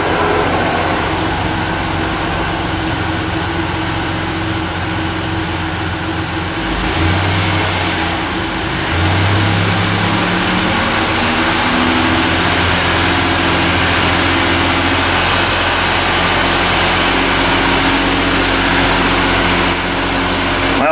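A Chevy Impala engine held at raised revs with the throttle propped open drones steadily and loudly throughout, with a slight shift in pitch partway through and no talk.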